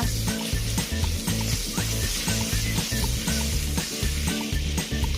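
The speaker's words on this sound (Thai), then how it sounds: "ใส่เนยลงไปเลย ทำให้เนยละลายก่อนนะคะ" Steady frying sizzle of butter melting in a hot pan over medium heat, constant and close, with faint clinks of stirring and no talking.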